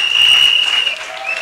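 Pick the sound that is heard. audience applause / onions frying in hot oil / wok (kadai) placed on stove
audience applause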